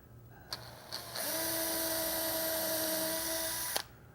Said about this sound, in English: I'm going to go ahead and pre-drill these too. I'm just using a small brad point bit